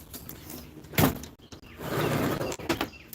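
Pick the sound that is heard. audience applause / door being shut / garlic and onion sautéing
door being shut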